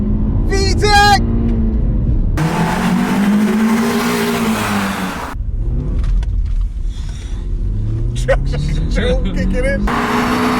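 The engine of a lightly modified BMW E46 318i revs up toward 7,000 RPM, its tone climbing under a loud rushing roar, mixed with excited voices and brief squeals.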